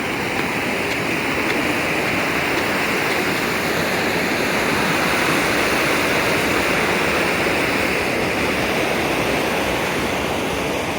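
Continuous broadband rush of river water pouring into an irrigation canal at Karnampalayam's Kutty Hogenakkal, steady and loud throughout with no gaps or voices.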